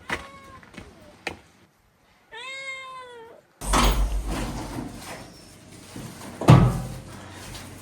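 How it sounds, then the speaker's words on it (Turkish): Cats meow in a rural mountain village home, a clear drawn-out harmonic meow in a quiet moment, surrounded by clattering household knocks and louder rustling noise. "Kedilerin keyfine bak."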